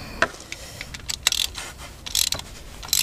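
A crank pulley bolt is turned by hand on a MINI Cooper R53 engine. It sounds like close, loose clicks and rattles of metal parts and ratcheting, irregular and fairly quiet, with brief sharper taps.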